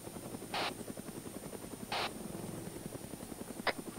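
A helicopter in a video game gives a rapid, rhythmic rotor thump that runs steadily and sounds faint and distant, broken by a few short bursts of noise.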